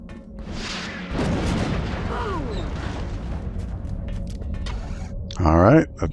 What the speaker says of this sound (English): let's go ahead and shoot some rockets